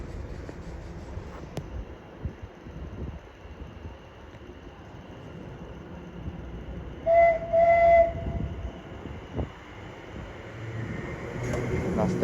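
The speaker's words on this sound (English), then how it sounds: "Nice depot whistle from the driver," A train driver sounds a short depot whistle at Chelmsford station on the Great Eastern Main Line. It comes as a brief, fairly distant burst in the middle of quiet platform ambience and low rail rumble.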